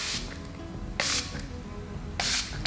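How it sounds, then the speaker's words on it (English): Matte makeup setting spray hisses out of a bottle in short, bright bursts, one at the start and then two more about a second apart, each lasting a fraction of a second, close and fairly loud with no talking. "we put setting spray on my 2016 side, but not light reflecting, no, matte"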